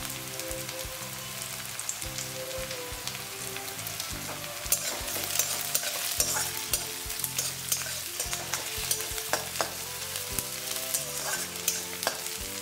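Onions fry with a steady sizzle in a pan for a Bengali-style chicken curry, with sugar just added and a spoon stirring and scraping throughout, alone and close, with no talk and soft background music.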